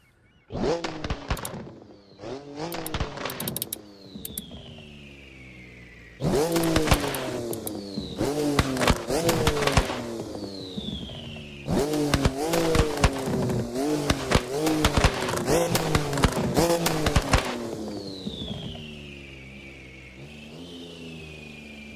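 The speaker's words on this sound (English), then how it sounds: "Listen to that turbo noise." A turbocharged car revs hard through repeated gear changes, each pull rising in pitch and ending in sharp blow-off chirps and flutters, loud and close with no talking.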